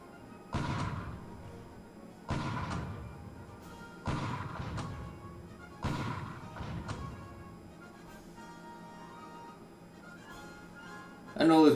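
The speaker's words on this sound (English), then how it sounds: "I know this was a real bombardment" Destroyer artillery bombardment in the War in the Pacific strategy game, four evenly spaced booming blasts with decaying rumble, then fainter scattered impacts and a final sharp burst, moderately loud.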